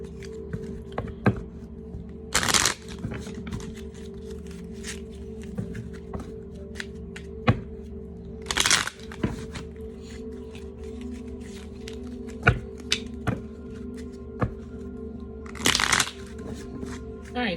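Three distinct riffles of a card deck being shuffled to draw a joke card, crisp bursts spaced several seconds apart amid small handling clicks and taps in a quiet room.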